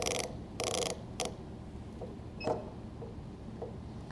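A hand ratchet torques a dental implant into a typodont model, giving short squeaky bursts and a few faint clicks amid quiet.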